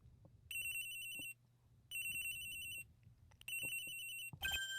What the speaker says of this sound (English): The phone. Who's calling me at a time like this?